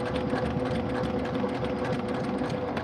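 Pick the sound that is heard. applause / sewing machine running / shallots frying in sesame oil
sewing machine running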